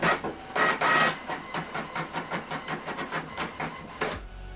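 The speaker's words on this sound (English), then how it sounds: "So we are printing double-sided, black and white, or monochrome if you like." An HP Envy printer runs a double-sided black-and-white print job, with a steady series of rhythmic mechanical clacks and whirs from the paper feed heard up close and alone, louder bursts at the start.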